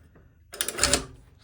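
A sewing machine runs a short burst of stitching along a slash pocket seam, a quick mechanical whirr that rises and fades within about half a second.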